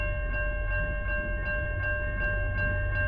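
A train passes the Berkley rail crossing on the South Coast Rail line at night, with steady ringing crossing bells as sustained tones over a low rumbling engine and wheels, loud and close, with no talk.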